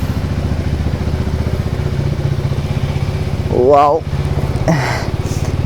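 A motorcycle ridden steadily on the road at the start of a long solo trip from Chennai toward Ladakh, its engine droning loud and constant with wind rush, while a voice briefly exclaims over it.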